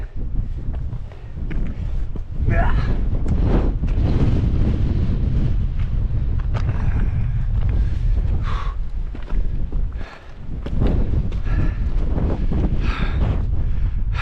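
Strong gusty wind buffets the microphone on an exposed mountain ridge in the Coledale Horseshoe fells near Eel Crag, a loud continuous roar with brief lulls and surges, no voices.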